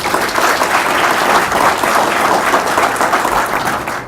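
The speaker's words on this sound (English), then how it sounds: "please give them a round of applause" Audience applause fills a city council meeting chamber in Odessa, a steady, dense wash of many hands clapping at close range that holds for about four seconds before tapering slightly at the end.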